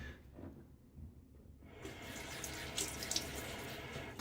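Warm water runs from a bathroom tap for shaving. A faint trickle and drips give way to a steady, hissing gush that continues to the end.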